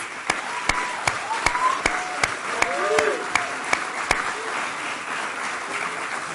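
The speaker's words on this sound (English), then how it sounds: "Let's give them another round of applause." Applause from a graduation audience for the 2019 class at East Hartford Synergy, steady broadband clapping with loud sharp bangs or pops every half second or so.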